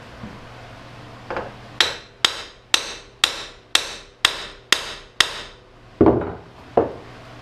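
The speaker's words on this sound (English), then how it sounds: "Grab my hammer and we're going to give it a hit." Eight sharp metallic hammer strikes land on an ATV A-arm in a steady rhythm, close and loud, followed by a couple of duller knocks at the end.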